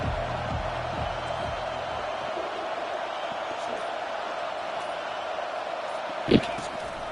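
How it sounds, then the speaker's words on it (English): Broad, steady crowd noise fills a football stadium at a Stanford game, a loud distant roar of many voices that holds throughout, with a brief sharp bump near the end. "This crowd bringing the energy and noise early."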